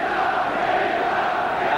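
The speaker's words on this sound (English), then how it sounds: "And the crowd now begin to take up the name of the former world champion." Boxing arena crowd at an Alan Minter versus Ernie Singletary fight, a dense steady roar of many voices taking up a chant of the former world champion's name, sustained and even throughout.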